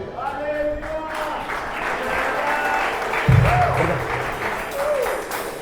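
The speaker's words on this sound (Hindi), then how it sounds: "जोरदार ताली बजाओ।" A church congregation claps loudly and continuously at a Hindi-language service led by a pastor, a dense, sustained wash of applause with voices calling out over it.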